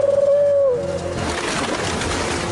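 A pigeon coos softly in a short warbling call, then fades into a broad wash of ambient noise; no speech.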